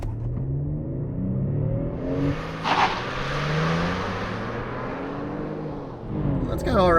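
Hyundai Palisade launched hard from a standstill with the brakes held, engine revving and pulling steadily from inside the cabin, with people talking over the rising engine note.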